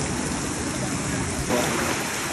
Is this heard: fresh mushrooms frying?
no